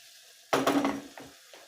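Meatballs frying together with onions in a hot pan, a sudden burst of sizzle and stirring clatter that fades into a softer crackle, with a couple of small scrapes near the end.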